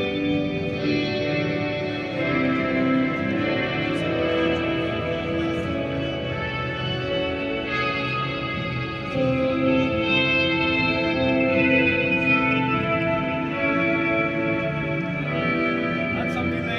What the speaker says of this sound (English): Reverb pedal that can do some pretty classic stuff from room, hall, up to ambient and spacey sounds.